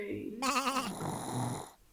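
A single wavering bleat of a sheep rises clearly for about half a second during a Christmas nativity stage show, then trails into a softer breathy murmur before falling quiet.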